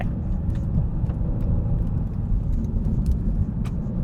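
Maserati GranTurismo Trofeo drives along a winding road, heard from inside as a steady low engine and road rumble with faint rattles over it.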